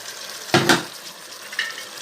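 Curry sauce sizzles softly in a frying pan as a spoon stirs it, two quick scraping swishes followed by a fainter one over a low steady hiss.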